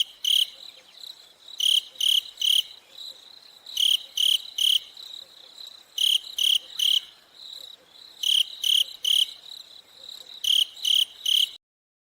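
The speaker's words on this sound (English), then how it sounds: "Oh, do you hear crickets?" Crickets chirp in rapid triple-pulsed bursts that repeat steadily against a quiet background, fairly close and clear, with no voices.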